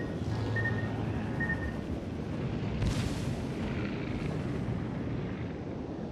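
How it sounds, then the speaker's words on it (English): Torpedo explosions in a naval battle video game, heard as a dense, continuous roar of booming blasts with a sharper burst near the middle, loud and without speech. "Those had to be Leander torpedoes"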